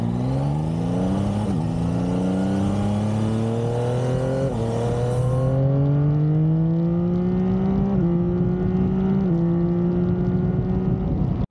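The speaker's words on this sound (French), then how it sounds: "la sonorité, c'est le 3 cylindres, c'est vraiment sympa comme son." A Yamaha MT-09 Y-AMT three-cylinder motorcycle engine pulls through several automatic gear changes, its tone climbing steadily, dropping briefly at each shift and rising again, loud and close with wind rush and no voices.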